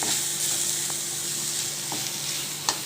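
Modak filling being sautéed and stirred in a pan, a steady close sizzle with a few light scrapes and taps of the spoon, no talking.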